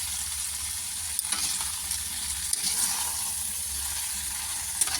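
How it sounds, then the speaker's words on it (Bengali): Broccoli stems with five-spice fry in hot oil while being stirred, a dense, close, continuous sizzle broken by a few faint clicks from the stirring utensil. "দিয়ে হালকা করে এটাকে নাড়তে থাকবো"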